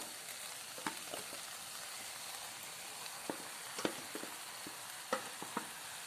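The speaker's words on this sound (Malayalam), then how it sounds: "ആ ടൈമിൽ നമ്മൾ ഊറ്റി വേവിച്ച് വെച്ചിരിക്കുന്ന സേമിയ ഇട്ട് കൊടുക്കാം." Cooked vermicelli stirred into melted sugar in a pan: quiet, sparse scraping clicks of a spoon over a soft, steady frying hiss, with no voices.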